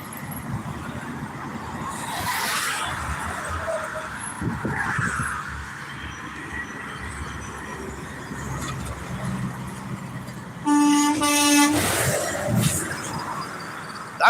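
A vehicle horn sounds once on a street, a single clear tonal blast about a second long that rises above the rumble of passing traffic.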